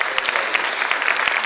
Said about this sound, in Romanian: și aș vrea să-l aplaudați.